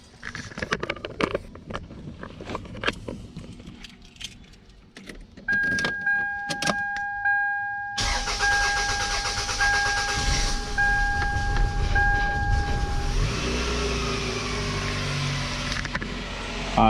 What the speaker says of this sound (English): That rough start you just saw was I did the fuel filter